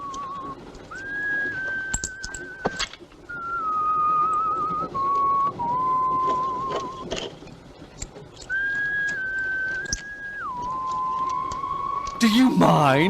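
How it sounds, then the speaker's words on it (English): A person whistles a wandering tune in short held notes over a busy background, with a brief burst of noise near the end. "See, I'm whistling."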